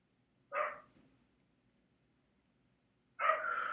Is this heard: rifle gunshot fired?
no